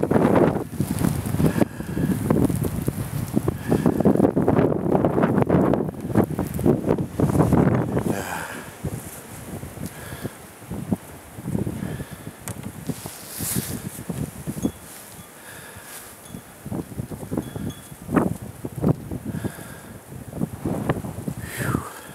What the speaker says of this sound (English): Forgive the wind, as we're about to go into it.